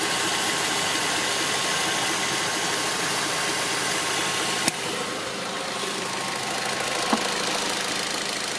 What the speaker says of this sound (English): So the car has been running for a while now.